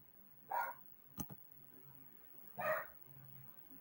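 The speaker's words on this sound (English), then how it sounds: "Dog is standing at the back door where it is his dog door, and he's barking to go out." A dog standing at a back door with a dog flap barks to be let outside, giving two separate sharp barks a couple of seconds apart, moderately close indoors, with a brief knock or thump between them.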